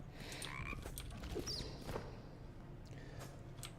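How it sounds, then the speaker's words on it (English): Frog croaking in the fantasy MMO Embers Adrift, a few short calls over a steady ambient background with faint footstep-like sounds. "Oh no, I heard a frog."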